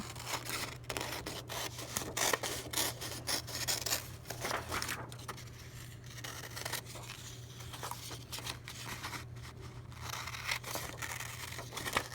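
A foam block is cut out along a marked fish-shaped outline for carving, giving a steady run of close scratchy tearing and rasping strokes over a constant low hum, with no talking.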